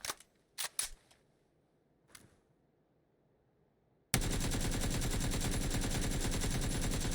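Automatic rifle fire in PUBG during a recoil test, with a few sharp separate shots at first, a quiet pause, then a loud continuous rapid burst that runs to the end.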